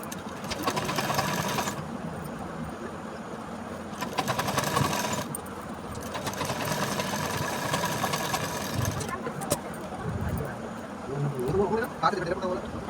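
An electric sewing machine runs a second line of stitching along a blouse seam, whirring steadily at close range in several bursts with brief pauses between runs, with no talking.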